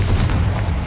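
A Confringo spell explodes in a Harry Potter video game, a deep, loud booming blast with heavy low rumble sustained through the whole short burst, with no voices over it.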